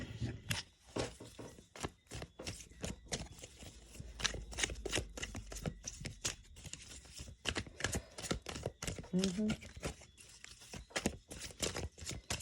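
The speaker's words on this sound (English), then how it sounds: "I need to give these cards a good shuffle." Cards being riffled and shuffled repeatedly, a run of crisp snapping bursts with brief pauses, close up and fairly quiet.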